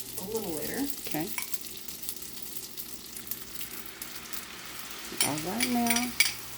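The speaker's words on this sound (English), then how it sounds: "Well, it's sizzling." Cajun pasta and vegetables sizzle and fry in a pan at close range, a steady crackle with occasional stirring and utensil clinks, and a brief voice heard in the middle.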